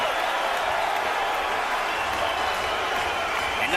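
Boxing arena crowd roaring steadily as fighter Srisaket Sor Rungvisai turns to his corner and lifts his gloves, a dense continuous wash of cheering and applause with no clear breaks.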